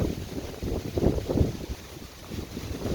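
Wind buffets an outdoor camera microphone in gusty bursts at a vegetable garden where kale seedlings are being transplanted, with low rumbling blasts swelling and fading over a few seconds and no talk.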